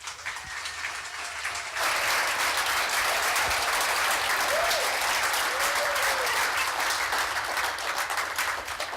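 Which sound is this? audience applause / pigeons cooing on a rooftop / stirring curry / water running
audience applause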